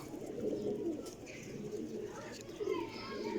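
Pigeons coo in low, repeated murmurs over a steady outdoor background, with a few brief higher bird calls on top; the flock sounds fairly close and moderately loud throughout.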